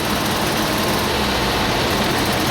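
A 2016 Volkswagen Beetle Dune held at full throttle produces a loud, steady, broadband engine roar with no break, heard from inside the car.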